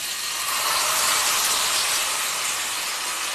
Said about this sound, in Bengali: আমি এবার মাছটাকে তেলের মধ্যে দিয়ে দিচ্ছি